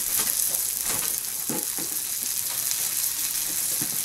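Largemouth bass fries in a pan with a constant close sizzle and hiss, with scattered louder pops and a few soft scrapes throughout.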